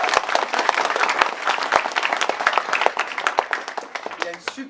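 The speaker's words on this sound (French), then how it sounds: "On l'applaudit bien fort." An audience claps for a musician at a launch evening, a lively burst of close, fairly loud hand claps that thins out toward the end as a voice begins speaking.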